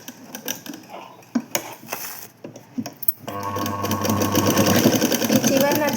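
A sewing machine slowly stitching a folded cloth hem: a few scattered clicks and handling knocks, then a steady, close mechanical whir and rapid needle clatter that runs without a break.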